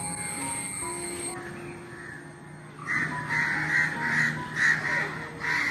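Crows caw repeatedly among rubber trees where they nest, a series of harsh, fairly close calls coming in quick bursts over a quiet outdoor background.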